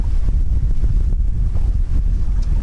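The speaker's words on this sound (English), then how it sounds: "the boat's leaning over a lot and there's a lot of splashing" A heeling sailboat pushing through wind over tide, with steady loud wind buffeting and water splashing against the hull, continuous and close throughout.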